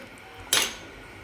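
Cooked eggplant-potato curry served onto a plate, a single sharp metallic clink of a spoon against the plate, brief and close, over quiet background.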